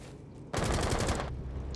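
Automatic gunfire crackles in a rapid close burst during a Rainbow Six competitive match, cutting in sharply after a quiet moment and fading after about a second.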